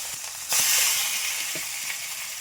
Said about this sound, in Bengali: চাকুল মাছ আমার ভাজা কমপ্লিট